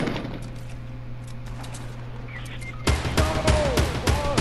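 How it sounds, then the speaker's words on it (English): A minigun fires in a video game. After a quiet hum the sound turns to loud, rapid bursts of gunfire, close and sustained, with metallic ringing mixed in. "Who the hell has a mini gun, bro?"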